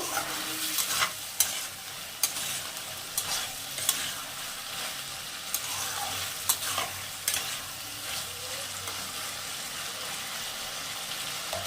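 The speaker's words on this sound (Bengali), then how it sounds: "আদা জিরেটা কষানো হয়ে গেছে।" Ginger and cumin paste sautéed in a pan for a vegetarian Malabar spinach dish with potato and pumpkin, a low frying hiss punctuated by repeated sharp stirring scrapes at an uneven pace throughout.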